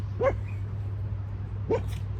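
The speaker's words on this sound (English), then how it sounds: "Those are my dogs." Dogs at home give two short, separate yips or barks in the background, a couple of seconds apart, over a steady low hum.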